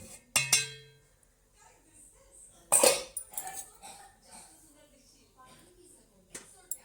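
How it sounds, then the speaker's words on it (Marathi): A metal lid is lifted off a cooking pot of simmered amla (Indian gooseberries) for pickle, giving a sharp clink and a short metallic ring, with smaller clatters after it and a voice talking quietly in the background. "चला आता आपण झाकण काढू"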